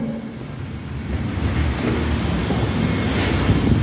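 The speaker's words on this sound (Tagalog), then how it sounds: "Ang lakas-lakas ng bagyo guys." Strong typhoon wind roars in a dense, rising rush of noise, buffeting the microphone and mixed with heavy water surge, loud and continuous with no voices.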